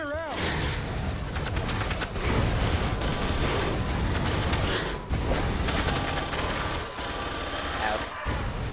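Automatic gunfire bursts and booms from the sci-fi shooter Aliens: Colonial Marines, a dense, continuous barrage of rapid shots and explosions with game effects and music, loud throughout with brief dips near the five- and eight-second marks.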